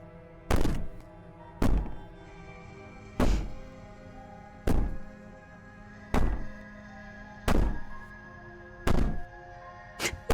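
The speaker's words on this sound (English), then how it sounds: "Maybe the banging and wailing will stop if you just don't pay attention to it." Heavy banging thuds from the princess in the video game Slay the Princess, seven loud, evenly spaced impacts about every one and a half seconds over a low droning background.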